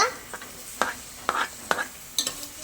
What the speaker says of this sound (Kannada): ಈರುಳ್ಳಿ ಬೆಳ್ಳುಳ್ಳಿ ಎಲ್ಲ ಬೇಯಿಸ್ಕೊತೀನಿ ಫ್ರೆಂಡ್ಸ್